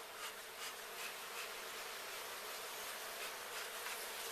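Honey bees in a backyard beehive make a dense, continuous buzzing hum with no break, faint and close, with no voices.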